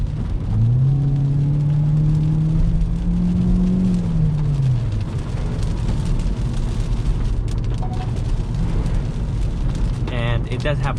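A 2021 Hyundai Elantra's engine drones and rises in pitch as the car accelerates on a drive, with constant road and cabin rumble close by and loud throughout.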